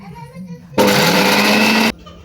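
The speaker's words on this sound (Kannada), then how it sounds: "ಹಸಿಮೆಣ್ಸಿನ್ಕಾಯಿನ ಮಿಕ್ಸಿಗೆ ಹಾಕ್ಕೊತಾ ಇದ್ದೀನಿ" A mixer grinder whirs on green chillies in one loud burst of a little over a second, cutting in and stopping abruptly between quieter stretches.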